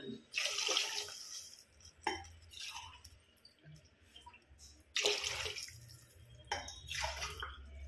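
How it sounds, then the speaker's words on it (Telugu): Four glasses of water poured into a pot of rice for pulao, heard as several separate splashing pours with short pauses between them, close and moderately loud. "4 గ్లాసులు నీళ్ళు పోస్తున్నానండి."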